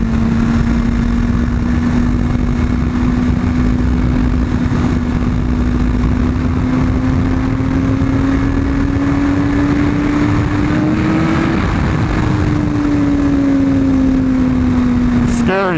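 Heavy wind roar buffets a motorcycle ride at high speed, a broad steady rush filling the whole stretch with an engine drone running underneath and rising slightly before easing near the end.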